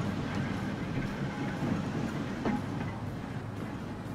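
A tram running in the Transport Fever video game, heard as a steady low rumble with faint rail clatter and a soft whine, continuous throughout at moderate loudness.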